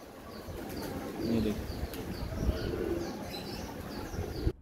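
Pigeons cooing softly with bursts of wing flapping and a few chirps, close by on a windy day, while a voice speaks briefly at the start.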